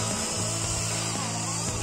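A cordless drill on a nearly empty battery whirs in short, labouring bursts that stop and restart, during a motorcycle ABS retrofit in a home workshop. The motor hum sounds weak and close, with no talk.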